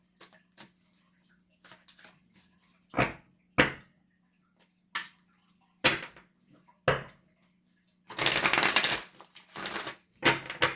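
A deck of tarot cards is shuffled and handled in scattered bursts, with quick papery riffles and taps separated by pauses and one longer shuffle near the end, close and quiet over a low hum.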